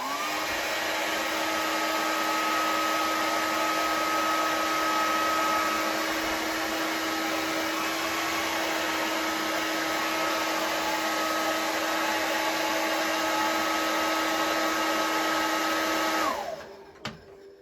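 A hot air blower runs on high to heat a Super7 Godzilla vinyl figure, a steady loud whooshing drone with a constant motor whine that holds for about sixteen seconds before cutting off abruptly.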